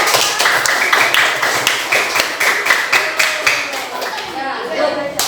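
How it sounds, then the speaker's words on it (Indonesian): A classroom group bursts into brisk applause for a student group, with many hands clapping close by in an uneven rhythm that carries on steadily for several seconds and then thins out near the end. "Iya, bagus ya, tepuk tangan kelompok."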